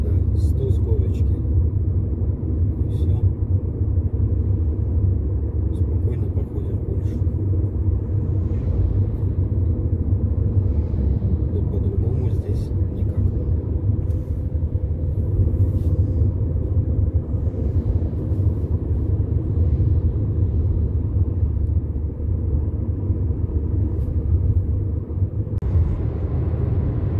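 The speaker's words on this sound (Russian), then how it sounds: "так что с таким движением едем спокойненько за фурой 95, иногда 100 с горочки" Car cruising on a highway behind a truck at about 95–100 km/h, a steady loud low engine and road rumble throughout with a few faint higher clicks.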